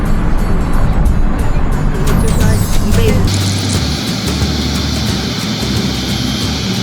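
A bus rolling across the airport tarmac at Chengdu Tianfu International Airport, a steady loud engine and road rumble with a brief rising hiss midway, then a continuous high whine as the vehicle settles, no talk heard.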